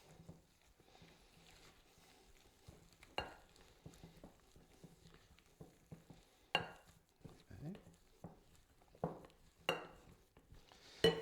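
Slivered almonds are stirred into thick cookie dough with a few soft scrapes and then louder clacks and knocks of a utensil against the bowl. The sounds are quiet and close, with faint low talk at moments.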